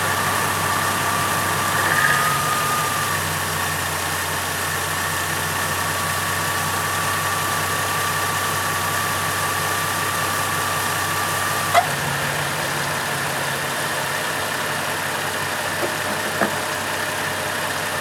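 A Holden VE Commodore engine idles steadily and evenly for a long stretch after a timing chain replacement, with a faint whine and a couple of brief clicks.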